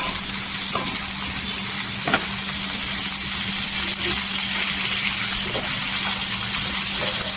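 Tomatoes sauté in oil over golden onions for egg masala, a loud, steady sizzling hiss with a constant hum underneath and a few faint stirring taps.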